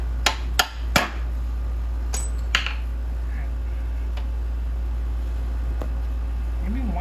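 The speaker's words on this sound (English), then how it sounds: "Let me go ahead and see if we can just tap this bolt out real quick." Sharp metallic taps of a hammer driving a bolt out of a Triumph Spitfire, three quick strikes close together, then a couple of lighter taps over a steady low hum.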